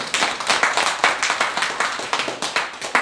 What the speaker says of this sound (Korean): 큰 박수로 당선을 확인하겠습니다